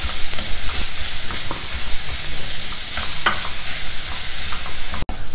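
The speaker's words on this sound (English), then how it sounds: "Fry it well till the ginger is nice and crisp." Finely chopped fresh ginger frying in a pan, a loud steady sizzle with scattered stirring scrapes and pops, close by and without talk.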